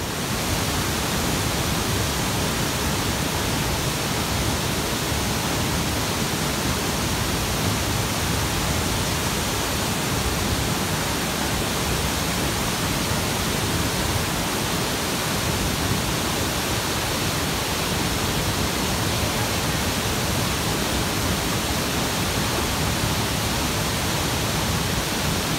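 Nauyaca waterfall near Uvita, Costa Rica, roars as a dense, loud, unbroken wash of falling water, close by and steady throughout with no voices.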